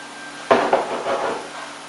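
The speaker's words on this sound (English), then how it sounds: "So you can put the screw on the screwdriver here. Get the second one in." A screwdriver turning a small screw into a mountain bike lamp housing, a sharp metallic click followed by a short grinding, rubbing scrape, close and fairly quiet.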